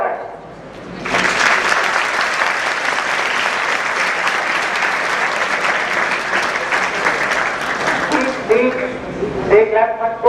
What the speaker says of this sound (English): They clap much more loudly than when I came on stage.